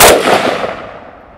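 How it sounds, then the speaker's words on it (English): A single sharp shot from a Sig Sauer 556 rifle, loud and close, with a bright crack followed by a fading rumble over about a second, alone with no talk. "and then we'll fire 10 shots again and I'll let you take a look"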